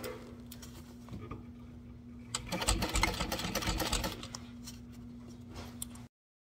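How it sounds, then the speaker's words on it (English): A sewing machine basting a fabric seam at a half-inch allowance: a close, steady run of fast mechanical stitching that swells in the middle and then stops, with no talking. "Actually, we're sewing it on at a 1/2 inch seam allowance."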